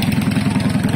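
Drag race engine at the KTEC Drag Race in Pinamalayan, Oriental Mindoro, idling steadily after start-up with a loud, close, rumbling pulse and faint clatter, heard alone.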